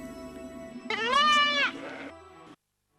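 Goats and sheep on desert steppe rangeland give a single loud, wavering bleat lasting under a second, close by, over a faint steady background hum.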